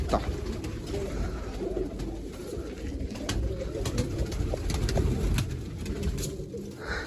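Pigeons cooing in low, soft repeated calls around a loft as a small flock lands, steady and close with no talk.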